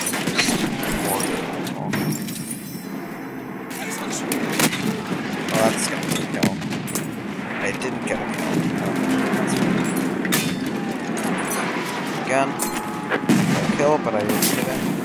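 Mortar and gunfire in a Battlefield 1 multiplayer match, a dense barrage of explosions and shots over continuous battlefield rumble, with a voice talking over the noise.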